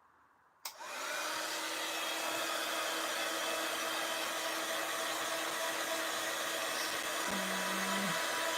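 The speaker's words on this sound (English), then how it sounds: "Right, I'm going to pop the heat gun on" A heat gun for card-making embossing switches on with a click and then blows a loud, steady whooshing roar that continues unbroken to the end, with a brief low hum near the close.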